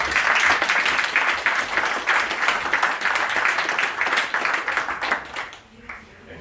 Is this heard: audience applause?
yes